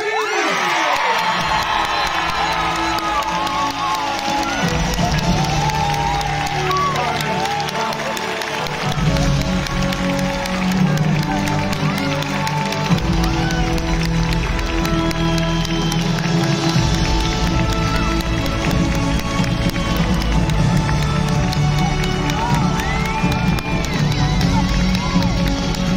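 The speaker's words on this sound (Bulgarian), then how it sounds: "Силни аплодисменти" A stadium crowd of about 40,000 at a televised talent show finale roars with sustained cheering, whooping and applause, loud and continuous throughout, with scattered shouting voices in the mass.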